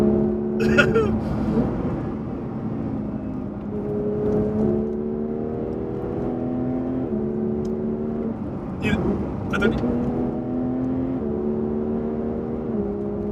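A Porsche 992 GT3 driven hard on twisty B roads, its engine note rising and stepping through gear changes in repeated climbing sweeps heard from inside, with a few sharp knocks and a voice talking over it.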